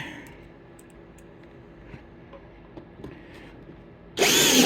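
A power drill drives half-inch #6 screws to fasten a PC board to a box during a Rife machine build. A quiet room holds until a loud drill burst cuts in for the final half second.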